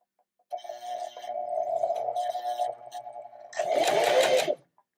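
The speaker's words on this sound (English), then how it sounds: "We're going to put our needle down, and we're going to make a few bar tack stitches along the bottom." Domestic sewing machine stitching a few bar tack stitches along the bottom of a garment, a steady whirring hum starting after a short silence, then a louder, busier burst near the end before stopping.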